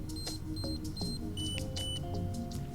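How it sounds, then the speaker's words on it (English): Short high-pitched electronic beeps from a facial toning device signal the end of its session, repeating several times over a steady background hum, with no voices. "So once you hear that beep, it's done"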